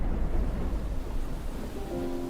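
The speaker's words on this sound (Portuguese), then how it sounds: "Ouviu-se o estampido do trovão e o lampejo do relâmpago." A low rumble of thunder rolls under steady rain in a storm sound effect, loud at first and easing off over a couple of seconds, with a faint tonal swell near the end.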